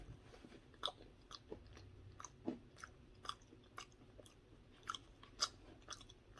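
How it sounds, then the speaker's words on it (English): Close chewing of a bite of BBQ biscuit casserole, soft moist crunches and smacking mouth sounds repeating irregularly through the clip, quiet and alone with no talk. "I'm gonna take a bite with a biscuit"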